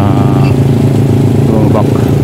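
A motorcycle engine drones steadily and loudly, close by, as it moves along a deeply flooded city avenue in Manila during a super typhoon, with a voice talking over it throughout.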